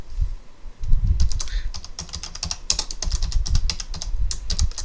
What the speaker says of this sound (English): So let's go ahead and type in a search phrase and see what happens.